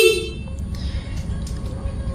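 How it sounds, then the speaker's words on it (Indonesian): A Honda Beat carburetor scooter's horn gives a short, loud honk right at the start, followed by a steady rumbling background. "Untuk klakson kencang, tapi starternya nih ada suara."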